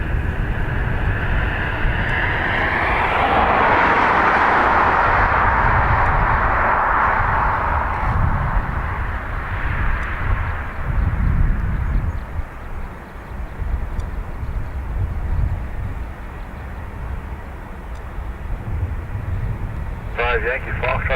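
A Ryanair airliner taxis out at Dublin Airport, a broad jet engine whine swelling and then fading over about ten seconds, with talk running over it throughout.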